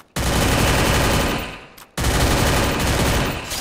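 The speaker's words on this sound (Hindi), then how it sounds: "यहाँ पे गोलियाँ चल रही हैं" Sustained automatic gunfire in the video game Free Fire MAX, a dense loud burst lasting over a second, a brief break, then another long continuous volley, with no voices.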